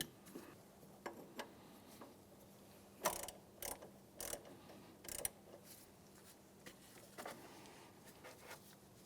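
A ratchet wrench tightens the alternator pulley bolt on a Honda Element, giving short bursts of quick metallic clicks in uneven groups, close and fairly quiet against a low background hum.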